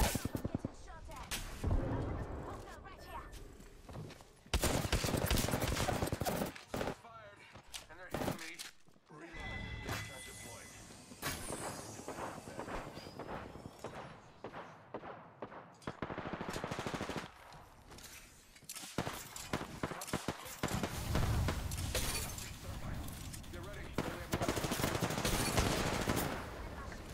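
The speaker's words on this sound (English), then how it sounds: "Getting shot at!" Gunfire in the Apex Legends battle royale game: repeated sharp bursts and rapid volleys of shots crackle loudly throughout, with voices talking over and between the firing.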